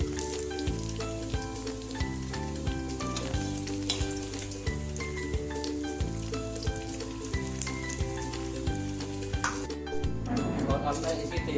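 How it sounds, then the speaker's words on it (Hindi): Onions shallow frying in hot oil for bhindi do pyaza, a dense steady sizzle and crackle with stirring, while a kitchen-appliance hum and voices run underneath throughout. "तो ये हमारी प्याज भी शैडो फ्राई हो गई है।"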